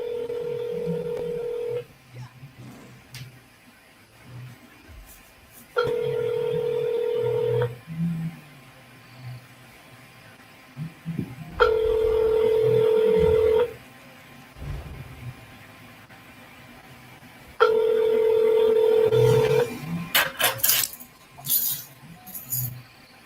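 Telephone keypad tones sound as four long, steady beeps of about two seconds each, spaced several seconds apart, over a faint background.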